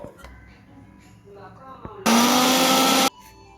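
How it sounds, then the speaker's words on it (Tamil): A mixer grinder roars at full power for about a second, finely grinding cluster beans with onion, then cuts off abruptly. A quiet voice and faint kitchen sounds come before it. "மிக்சியில் நைஸாக அரைச்சி எடுத்து வச்சுக்கோங்க"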